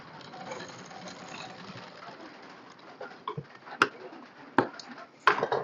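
A tailoring sewing machine stitches over a tuck, a quiet close rattle of needle strokes with a few sharp knocks and clicks toward the end, no voice over it.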